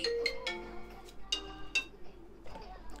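An outgoing call rings on a Moto Edge 50 Pro smartphone, sounding as a quiet series of short, bright melodic tones in separate bursts against near silence.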